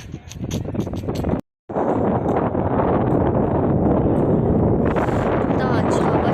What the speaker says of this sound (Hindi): इतना अच्छा हवा चल रहा है।